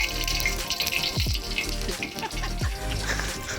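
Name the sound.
boiling candle mixture bubbling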